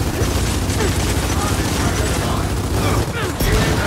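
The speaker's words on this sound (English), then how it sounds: "Damn, they're shooting through the flower pots." Enemy gunfire in Gears of War 4, rounds tearing through garden flower pots: a dense, continuous barrage of loud shots that rarely lets up, close and heavy throughout with a brief dip near the end.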